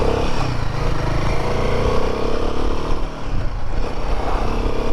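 A Royal Enfield Himalayan 450 motorcycle cruises along Sunshine Coast Highway 101, its engine droning steadily with constant rumble and wind rush at close range and even loudness throughout.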